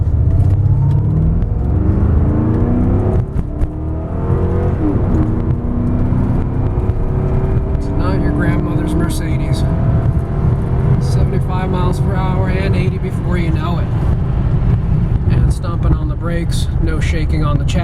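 A 1992 Mercedes-Benz 400E W124 sedan pulls away from a standstill up an incline, its engine note rising steadily as it accelerates while someone talks over it from inside the car.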